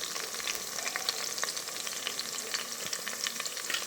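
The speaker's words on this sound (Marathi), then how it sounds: "आता यामध्ये लसण अद्रकचा पेस्ट टाकूया." Garlic ginger paste frying in hot oil gives a steady, close sizzle with a continuous crackling hiss and faint stirring, with no talk over it.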